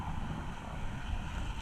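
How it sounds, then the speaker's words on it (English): Lake Michigan waves slosh and crash against a kayak out on open water in October, a steady low churning rumble mixed with wind buffeting the microphone throughout, with no voices. "how the waves were crashing into me"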